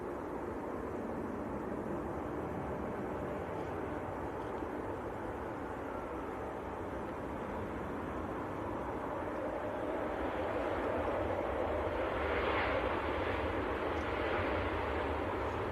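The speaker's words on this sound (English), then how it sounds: "Another inbound Ryanair as well." A Ryanair airliner inbound from Dublin passes over Manchester Airport on a calm, freezing day, a moderate steady jet rumble that swells slightly louder toward the end, heard alone without voices.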